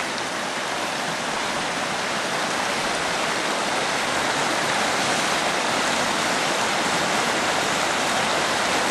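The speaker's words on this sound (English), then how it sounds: "we have swiftly flowing water running across all of that exposed bedrock" Swift stream water pours steadily over exposed bedrock at a prospecting site, a loud, continuous, close rushing wash with no pauses and no voices.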